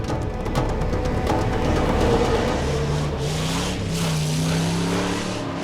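Car driving along a road, a steady engine drone with shifting low tones as it moves, loud and continuous with no talk.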